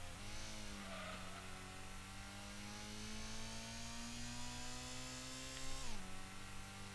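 Honda Prelude VTEC engine in the PlayStation game Gran Turismo, holding a high, steady rev near 8,000 RPM with a gradual rising whine, then a sharp drop at a gear change before climbing again.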